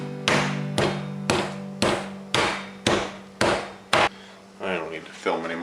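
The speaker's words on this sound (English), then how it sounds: "you're gonna get a meat mallet or a rubber mallet and smash them till they're about 1/8 of an inch thick" A meat mallet pounds schnitzel meat thin on a board: seven sharp, evenly spaced thuds, loud and close, then a couple of softer blows with a brief murmur of voice.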